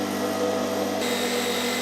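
An R-Tech welding torch water cooler unit switching on and its pump starting, a steady close electric hum that shifts slightly in tone partway through, with no talk.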